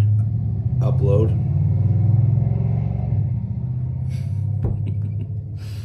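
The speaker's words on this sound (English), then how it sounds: "You gotta love loud trucks." A loud truck passes outside, a deep engine rumble that rises and holds before easing off, heard under a person talking close by.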